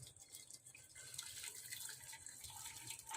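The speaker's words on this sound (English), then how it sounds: "in this pan we are going to strain the jaggery water." Jaggery water is strained into a pan, giving a faint, steady trickle and splash of liquid, close by with no talk.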